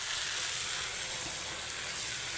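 Water spinach frying in hot oil with dried chillies, a steady, close sizzling hiss that runs unbroken and fairly quiet throughout, with no voices.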